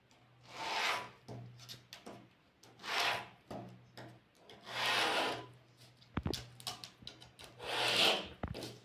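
A pen or pencil is drawn repeatedly across paper along a ruler while drafting a basic bodice sewing pattern, producing close, soft scratchy strokes that swell and fade in several long passes, with a low steady hum beneath.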